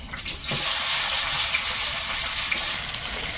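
Chopped onion fries in a wok of hot oil with five-spice seeds (panch phoron), giving a steady broad sizzle close by, with one brief clatter near the start.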